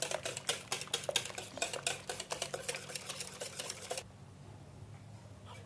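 Room-temperature milk is mixed into eggless vanilla chocolate chip cake batter, a rapid, even clicking of utensil against bowl for about four seconds before going quiet.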